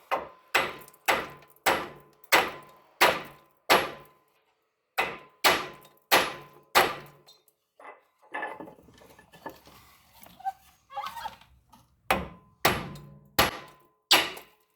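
A hammer strikes a Ford Edge wheel hub at the castle nut during a wheel bearing replacement: loud, evenly spaced metallic blows in two runs, broken by a stretch of softer rattling and shuffling, then a few more hits.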